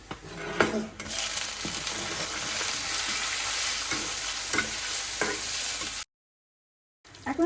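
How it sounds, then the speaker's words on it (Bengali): Chopped onion, chili and tomato sizzle steadily in a pan, with occasional stirring scrapes, then a brief silence before the frying resumes. "পেঁয়াজটা হালকা লাল হয়ে গিয়েছে এখন দিব টমেটো কুচি"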